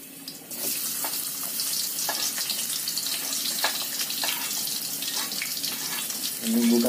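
Fried shallots and seasoning go into a hot pan for stir-fried water spinach, a steady bright hiss of frying with scattered crackles, followed by a louder burst near the end.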